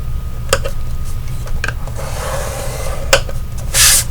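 Card stock scored on its 5-inch side for a chunky album page, a few sharp close scraping strokes separated by quiet pauses, with a brief hiss at the end.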